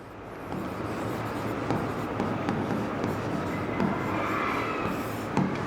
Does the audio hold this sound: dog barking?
no